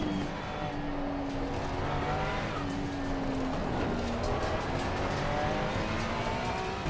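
Several race cars from Assetto Corsa Competizione battle for the lead, engines droning steadily with shifting pitch as they run close together, a continuous loud roar throughout.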